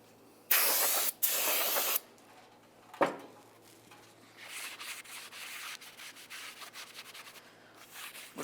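Cleaner is sprayed onto the rear brake rotor of a 1998-2002 Lincoln Navigator, with two loud, close hissing bursts and then a shorter third burst. Softer rubbing and wiping sounds follow.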